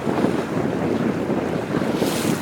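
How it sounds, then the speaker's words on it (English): Strong wind roars across the microphone on Lake Barkley, with choppy water sloshing beneath it on a catfishing boat. The blustery noise stays steady and close throughout, and no one speaks. "Wind's blowing pretty bad right here."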